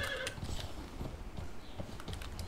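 Horse hooves clip-clopping and a short neigh in the video game Conan Exiles, brief and moderately close against a busy background.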